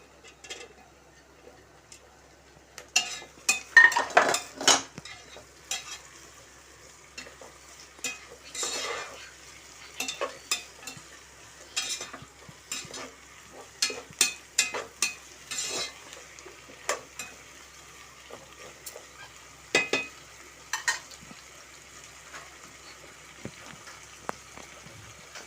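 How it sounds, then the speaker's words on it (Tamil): Green chillies and tomatoes sauté with softened onions for a prawn biryani, giving repeated close scraping stirs and soft sizzling in bursts against a quiet background. "இப்போ பச்சை மிளகாய், தக்காளியும் போட்டுக்கிறோம்."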